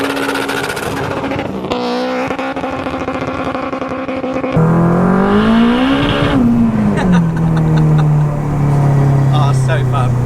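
A 505 bhp turbocharged, methanol-injected Honda Civic Type R EP3 accelerates hard, its loud engine note rising and falling steadily through gear changes, close and continuous with a constant roar throughout.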